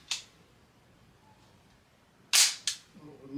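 A Ruger Mark IV .22 pistol, the 22/45 Lite, gives a sharp metallic clack as its slide release drops, closely followed by a second smaller snap, loud and near against a quiet room, with an earlier click at the start.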